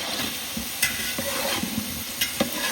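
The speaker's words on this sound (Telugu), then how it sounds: "మంచిగా మనం దీన్ని ఫ్రై చేసుకోవాలి కలుపుకోరా మంచిగా" A mixture of tomatoes and green chillies fries in a pan, a soft sizzle underneath repeated scraping strokes of a spoon stirring it, several in quick irregular succession.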